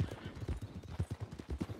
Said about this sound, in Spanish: Pero llena de caballos.